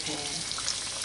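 Salmon cakes fry in hot oil in a pan, a steady close sizzle with constant crackle and no clear breaks across the short stretch.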